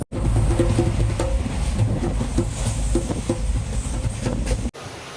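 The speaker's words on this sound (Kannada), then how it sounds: "ಸೊ ನಮ್ಮ ಟ್ರೈನ್ ಬಂದಿತ್ತು" A train arriving at a station rumbles loudly and steadily close by, with rhythmic clacks of wheels over rail joints before the noise cuts off abruptly.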